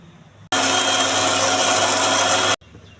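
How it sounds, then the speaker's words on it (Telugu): A mixer grinder blends grapes into juice, its motor roaring loud and steady for about two seconds, then cutting off abruptly amid quiet kitchen background. "మిక్సీ వేసుకోవాలి."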